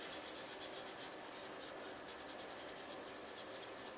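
Chalk rubbed over stamped cardstock in a papercraft project, making a soft, continuous dry scratching rasp, close and steady with no speech.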